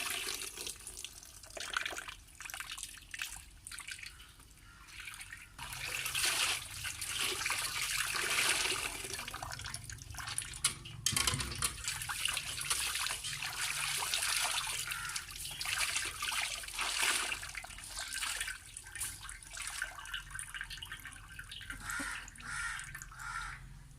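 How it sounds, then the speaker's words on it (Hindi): Cloth is rinsed and sloshed in running water, with a steady splashing flow and trickling that continues throughout, with no talking. "तब इन कपड़ों को साफ़ पानी से धो लेंगे।"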